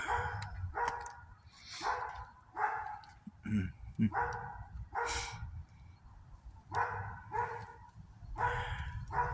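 A dog barks repeatedly at night beside a bonfire, sharp separate barks in an irregular rhythm, fairly close, with occasional faint voices in between.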